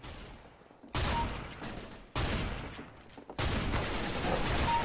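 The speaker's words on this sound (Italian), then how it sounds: "tre colpi e l'abbiamo buttato giù" Gunfire from the video game CS:GO comes in three loud bursts about a second apart, each dense volley cutting in abruptly and decaying slowly.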